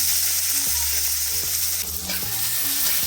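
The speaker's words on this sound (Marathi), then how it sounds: "कांदा चांगला आपल्याला गोल्डन ब्राऊन मस्त परतून घ्यायचा आहे." Finely chopped onion frying in hot oil with cumin and mustard seeds while being stirred for a cauliflower dish, giving a loud, steady close-up sizzle broken by occasional scraping strokes, with no voices.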